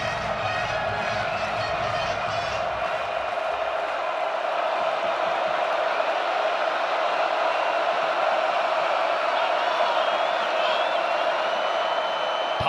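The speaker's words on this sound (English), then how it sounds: "Here comes the Faurot Field crowd." A college football crowd at Faurot Field during a Vanderbilt versus Missouri game gives off a steady, distant roar of cheering that holds at an even loudness.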